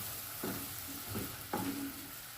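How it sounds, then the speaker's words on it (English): Beef with tomatoes and mixed vegetables being stirred in a pot for slow-cooked ginger-garlic beef, a faint low sizzle with three soft scraping stirs spaced across the moment, no speech. "after mixing the vegetables now, I give it a good stir"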